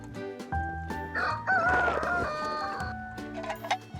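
A rooster crows loudly and nearby over clucking hens in a village chicken coop below Mount Paektu, the long crow rising through the middle with steady fowl chatter around it.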